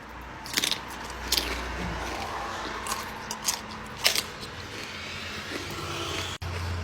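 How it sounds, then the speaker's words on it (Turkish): Crunchy bites of a breakfast that tastes like mixed pizza, chewed close to the microphone. There are several brief crisp crunches at irregular intervals over a low background hum, with no talk. "Bir ısırık daha alacağım o yüzden."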